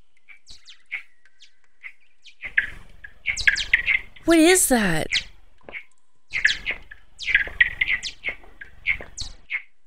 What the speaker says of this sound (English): Oh my god, are those